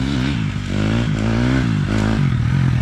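A motorcycle engine held in a pushed third gear while riding a wheelie on the rear wheel, roaring loud and close with a steady, slightly wavering drone throughout.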